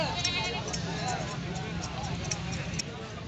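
A purebred Makhi Cheena goat bleats at a busy goat market in Kudiyan, its calls rising over a constant crowded din of other animals and murmuring voices.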